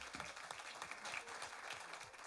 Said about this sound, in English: Shall we give all the unit leaders a round of applause?